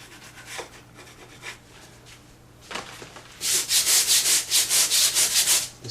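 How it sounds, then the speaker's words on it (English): Sandpaper rubbed over a drywall patch on an outside corner: soft scattered scrapes at first, then a run of brisk, rhythmic back-and-forth strokes, close and fairly loud. "The sandpaper."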